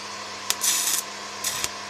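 A Zenit arc welding machine runs at minimum current, giving two short bursts of crackling, hissing arc over a steady low electrical hum, each opening with a sharp strike.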